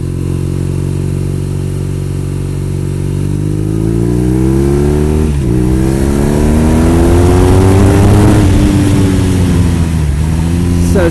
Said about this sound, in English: We rev a bit higher on this boxer than we do that twin.